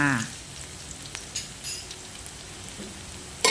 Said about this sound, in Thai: นี่เลยจ้าน้ำมันร้อนแล้วนะคะ ก็ ใส่กระเทียมลงไปเจียวเลยค่ะ